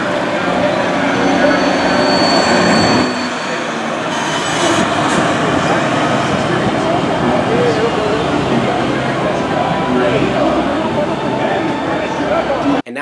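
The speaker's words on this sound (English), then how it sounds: "let's hear the sound effects coming from the diesel engines" Diesel-engined studio tour tram at Universal Studios Hollywood, rumbling steadily close by with a dense, loud engine and rolling drone, briefly dipping midway, with other noise layered over it.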